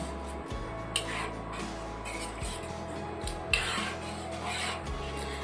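A spoon scrapes and rasps around a pan of sardine fish curry in repeated slow strokes, close and fairly loud, with occasional knocks against the metal.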